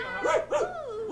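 A human voice imitates a dog barking, giving two quick pitched yaps followed by a drawn-out, wavering yelp, close and clear, in a 1968 French children's comedy setting.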